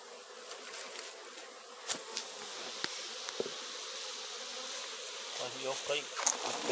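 A swarm of Italian European honey bees buzzes steadily at a hive during honey harvesting, a faint continuous drone with individual bees zipping past close by.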